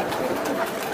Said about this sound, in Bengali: সবগুলা কবুতর উঠতেছে, এই যে বাইরে